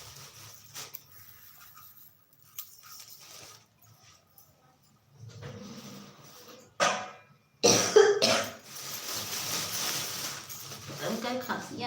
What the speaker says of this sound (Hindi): उनका खांसी आने लगी।